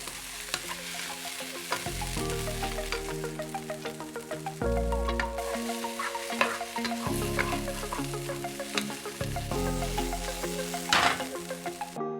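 Jamaican-style cauliflower rice and peas simmering down in coconut milk in a pan gives a steady bubbling sizzle, with intermittent utensil scrapes and taps as it is stirred; no talking.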